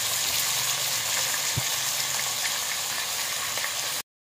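Sour fish curry with mustard paste and dried mango sizzles steadily in fish-frying oil, a close, continuous hiss and bubble with no talking, until it stops abruptly at the end.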